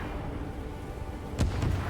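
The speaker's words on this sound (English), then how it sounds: "Right, cannons again." Cannons fire in the video game Stories: The Path of Destinies: two sharp booming blasts land close together near the end, over a low rumbling game background.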